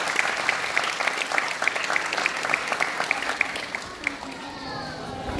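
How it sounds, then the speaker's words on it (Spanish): Crowd applauding at an outdoor Christmas food-basket handout in Tierra Blanca, steady clapping with a few sharper claps and faint children's voices underneath, loud and continuous before easing near the end. "Fuerte el aplauso para don Gustavo."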